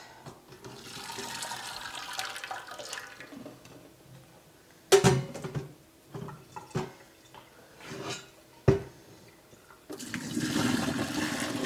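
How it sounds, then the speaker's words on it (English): Soaked beans drained for pressure-canned baked beans, with water pouring and splashing into a sink in bursts, a steady gush at the start and end and sharper clatters and drips between, close and fairly loud. "So I've drained the beans."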